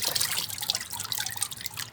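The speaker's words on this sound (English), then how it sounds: "we dip these into the water with the fiber." A paper mold with a screen and decal dipped into a tub of cotton fiber and water, giving a steady close wash of splashing, dripping and trickling water for about two seconds with no voices.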